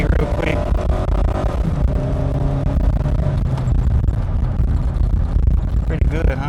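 A 2006 Nissan Frontier XE King Cab pickup pulls hard toward 60 mph, its engine droning loud and steady from inside the cab with rising road and wind rush, while a voice speaks over it.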